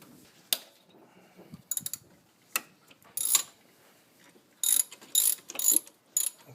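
A ratchet works a 10 mm power steering pump bolt on a 2000 Ford Focus, giving several short, crisp bursts of clicking with brief pauses between them, close and fairly loud in a quiet garage.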